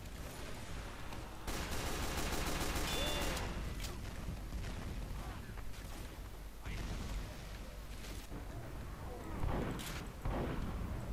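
Shotgun fire in Team Fortress 2 video game, a dense battle of repeated gunshots and booms throughout, close and fairly loud, with game voices mixed in.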